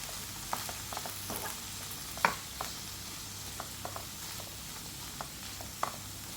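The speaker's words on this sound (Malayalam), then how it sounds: "അതിനകത്തോട്ട് നമ്മൾ ചതച്ച് വെച്ചിരിക്കുന്ന ചെറിയ ഉള്ളിയും മുളക് കൂടി ഇട്ട് കൊടുക്കുകയാണ്. ഇതെല്ലാം കൂടെ ചേർത്ത് നമുക്കൊന്ന് ഇളക്കി വെക്കാം." Long beans stir-fried in a pan with crushed shallots and chili, giving a steady low sizzle broken by a few soft scraping knocks of stirring, with no talking.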